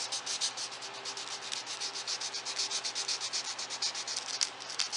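Rhythmic back-and-forth rasping of 150-grit sandpaper smoothing a rounded-over edge on a damaged wooden chair part, quick even strokes repeating steadily and close, with no voices.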